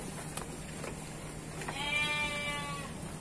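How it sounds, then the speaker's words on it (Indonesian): A sakub sheep, a cross of local Mount Slamet mountain sheep, gives one wavering bleat in a dim livestock pen, clear and fairly close over low background noise. "Ini domba sakup ini hasil silangan antara domba lokal, ya, domba gunung lereng Gunung Slamet"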